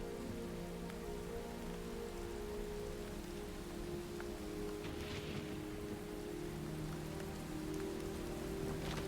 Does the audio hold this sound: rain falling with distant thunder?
yes